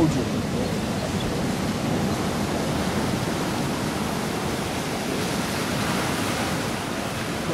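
Ocean waves wash onto the beach at Elmina, Ghana, as a continuous even roar of surf that stays fairly loud and unbroken throughout.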